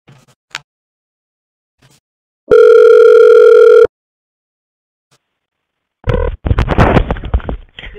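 A telephone line left disconnected mid-call gives a steady, loud electronic tone lasting about a second and a half between faint clicks, followed later by bursts of crackly noise.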